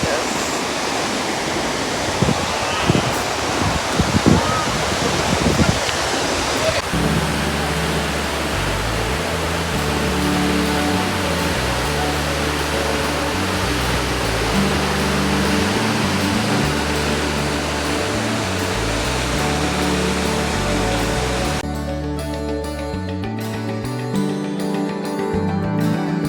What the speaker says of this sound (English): look at this fall